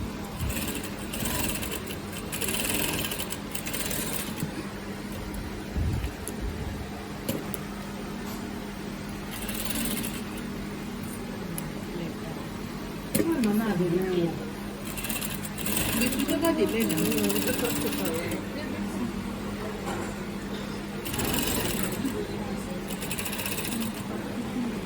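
A sewing machine runs in bursts of rapid mechanical whirring and clatter, top stitching a corset up close, while someone talks over and between the runs.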